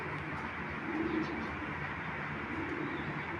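Pigeons from a large pair kept for sale coo softly a couple of times, low and close, over a steady hiss of background noise.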